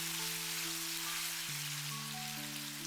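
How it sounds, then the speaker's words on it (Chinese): Ginger and garlic stir-fried with pork belly in a wok give a continuous dense, hissing sizzle that carries under steady background music. "快速翻炒均匀，把姜蒜炒出香味"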